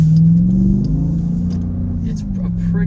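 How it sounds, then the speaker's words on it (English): A Jeep Grand Cherokee SRT with an MBRP Armor Lite exhaust rumbles steadily, a deep close drone that swells slightly as gas is given, with no talk over it. "it's got a nice little rumble to it, and when you give it a little bit of gas, you can tell it's there"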